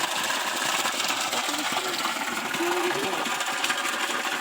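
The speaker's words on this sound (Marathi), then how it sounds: "बघू शकता अशा प्रकारे प्रेशर मारता हा पंप" A 3 HP farm water pump with a 70 metre pipe runs under pressure, giving a dense, steady mechanical rattle and hiss throughout. Someone talks over it.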